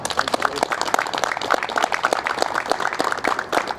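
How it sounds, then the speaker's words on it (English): An audience claps in a steady, moderately loud round of applause at a fire department academy workout session, a dense patter of many hands with no voices standing out. "Round of applause."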